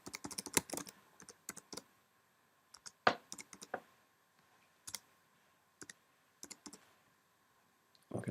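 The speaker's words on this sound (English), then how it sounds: "you simply click on that, type in the URL," Keys clatter on a computer keyboard as a web address is entered, quick bursts of clicks separated by short pauses, close and fairly quiet with no talking.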